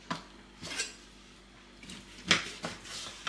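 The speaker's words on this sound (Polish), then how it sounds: "Żeberka mam opłukane i teraz pokroimy na kawałki." A knife cutting rinsed pork ribs into pieces, several sharp chopping knocks and clicks against a board at irregular intervals, close by with quiet gaps between.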